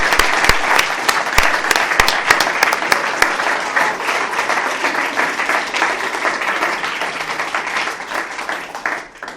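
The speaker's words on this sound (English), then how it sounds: "could we just give Ruth a huge round of applause" Awards night crowd at a healthcare ceremony gives Ruth a long round of applause, thick continuous clapping with a few sharp individual claps standing out near the start, gradually thinning and fading toward the end.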